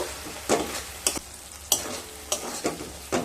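Spices with Kashmiri chili powder, turmeric and salt being sautéed and stirred in a pan for a soybean, potato and pointed gourd curry: a close sizzle broken by regular scraping spatula strokes about every half second.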